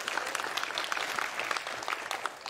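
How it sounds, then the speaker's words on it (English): Brisk, lively applause from a church congregation during a Sunday service, many hands clapping steadily and fairly close throughout. "give yourself a round of applause"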